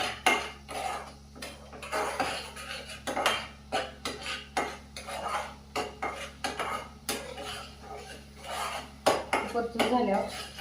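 Spices for a chicken curry sauté in a pan, with a metal spoon scraping and clinking against the pan in steady, irregular stirring strokes over a low continuous hum, close and moderately loud.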